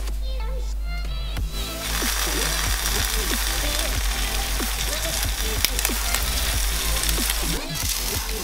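Eggs fry in a pan with a steady, loud sizzle running throughout, while someone talks over the cooking.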